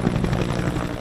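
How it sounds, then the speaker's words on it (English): Helicopter flying over an outdoor memorial ceremony in a courthouse sunken garden, a steady, fairly loud rotor thrum that fills the whole moment without talk. "a helicopter flyover above the courthouse sunken garden"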